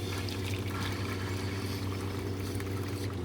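Water runs steadily from a shower built inside a car, a continuous close hiss and spatter with a low hum underneath and no voices.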